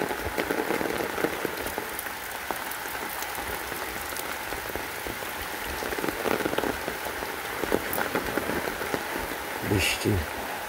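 Rain falls without a break onto a pond in Niteshwar village, Bangladesh, in autumn. A close, constant wash of pattering drops carries on throughout, with a few brighter splashes standing out.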